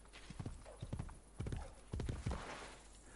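Rhythmic clip-clop of horse hooves close by in Assassin's Creed Brotherhood, a few short whinnies mixed in over a faint background hum.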